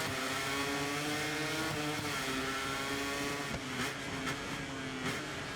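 MotoGP racing motorcycles pulling away from the start at the Qatar circuit, a dense, continuous engine roar with rising pitch as the pack accelerates, steady and loud throughout.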